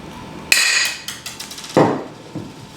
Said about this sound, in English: insert the rivet stem and pump the tool